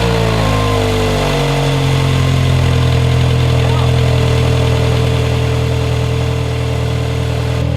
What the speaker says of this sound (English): Got quite an exhaust leak from that clamp.